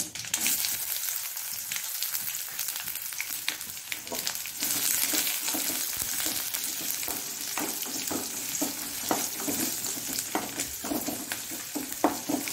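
Onion and chillies fry in hot oil with a continuous sizzle, while spoon scrapes and stirring clicks repeat irregularly against the pan. The sound is moderately loud and close, with no talking.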